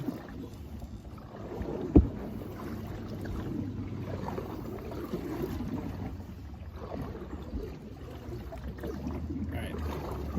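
A canoe paddled along the Erie Canal: soft water swishes and paddle strokes close by, with a light wind rumble across the microphone and one sharp knock, with no talking.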